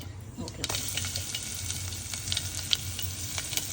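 Crushed garlic and cumin sizzling in hot oil with mustard seeds, turmeric, dried red chillies and curry leaves, a steady close frying hiss with small pops and crackles throughout.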